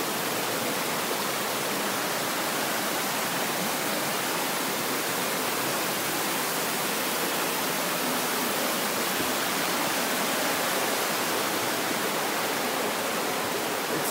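Rushing water from a waterfall at Ambleside, a steady, dense broadband roar that stays loud and unbroken throughout with no voices.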